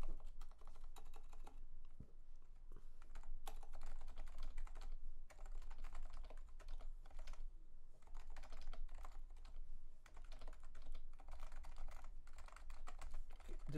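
Quiet, muffled keystrokes on a black Leopold FC660C silent Topre keyboard, typed in a steady, irregular flurry with short pauses, close up and with no talking.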